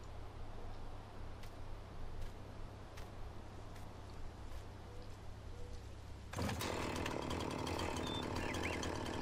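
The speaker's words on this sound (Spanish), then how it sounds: "Puedes utilizar la motosierra para cortar árboles, hacer troncos pequeños y transportarlos a mano." A chainsaw revs up loudly and steadily in Farming Simulator 19 while cutting trees, its broadband buzz starting abruptly after a quiet stretch and holding to the end.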